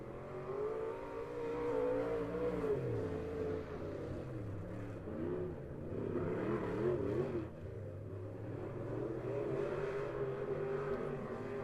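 USRA B-Mod race cars roar around a dirt track during a heat race, engines droning and rising and falling as they pass, a continuous layered rumble without talk.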